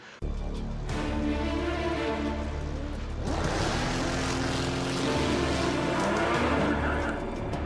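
A Radical sports car accelerates hard on a test-track power lap, its engine screaming loud and close with rising and falling revs and rapid gear changes, almost unbroken throughout.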